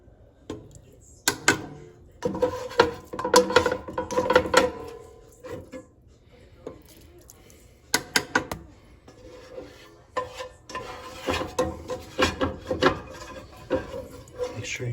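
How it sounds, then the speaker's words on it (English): Metal utensil scraping the bottom and edges of a pan of caramelized onions for French onion soup, bursts of rough rasping strokes in irregular clusters, close and fairly loud with quieter pauses between. "Scrape every last little bit you can out of that pan."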